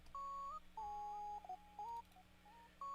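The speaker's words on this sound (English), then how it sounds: "this is super kind of West Coast sine wave lead" A pure, smooth West Coast-style synthesizer sine-tone lead plays a short melody of held notes with little glides between pitches, clean and fairly quiet.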